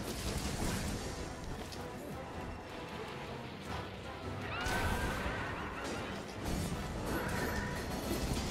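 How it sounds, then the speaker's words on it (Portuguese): The Kirin monster gallops in Monster Hunter World, a loud, continuous wash of game noise with crashing hits and whinny-like cries swelling midway and again near the end. "agora ele vai ficar galopando."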